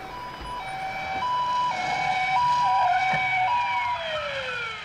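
An ambulance siren wails with rising and falling tones, fairly loud and steady, with traffic noise underneath and no voices.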